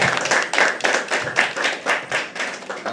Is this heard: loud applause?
yes